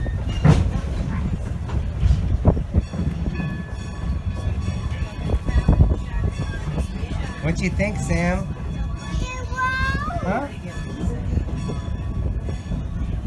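A train on the Strasburg Railroad rumbles past with low rolling wheel noise and clatter throughout, while people chat nearby over the sound.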